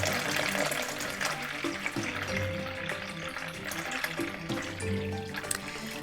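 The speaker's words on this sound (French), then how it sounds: "Et maintenant, on va commencer à remplir le parcours. Je vais mettre suffisamment d'eau pour que Nemo ait de quoi nager" Water poured to fill a plastic Finding Dory Marine Life Institute toy play course, a continuous close splashing gush like a running tap, steady and fairly loud with no talking.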